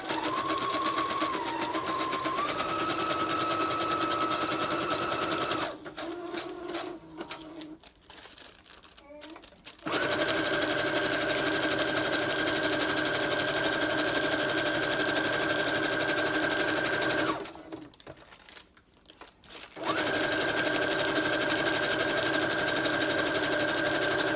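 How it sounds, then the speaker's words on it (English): Sewing machine stitching across the top of a junk journal page with pink thread, running loud and steady in long continuous bursts broken by two short pauses. "we'll just start by sewing right across the top here."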